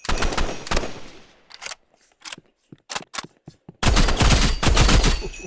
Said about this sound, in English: Let me hit all headshots with the assault rifle.